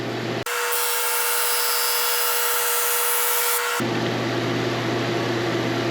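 A Flatmaster drum sander works resawn pallet wood, a loud steady grinding whir that jumps to a harsher, brighter tone for a few seconds as the board feeds through, then settles back to the running hum.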